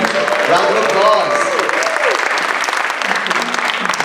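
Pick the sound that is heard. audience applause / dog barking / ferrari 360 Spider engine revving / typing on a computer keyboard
audience applause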